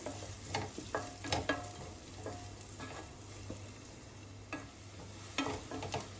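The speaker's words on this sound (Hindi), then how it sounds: "इसके बाद ऐड करेंगे हम 1 बड़ा प्याज, जिसको कि मैंने चॉप कर लिया है अच्छे से चॉपर में। अच्छे से मिला लेंगे।" A chopped large onion fries in a pan for Mexican rice, a soft continuous sizzle broken by repeated scraping stirs of a utensil against the pan, all fairly faint.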